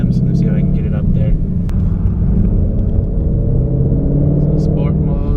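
A 2018 Mustang GT fitted with a Roush resonator-delete X-pipe holds a loud, steady deep exhaust rumble close by, with the engine droning throughout the short stretch.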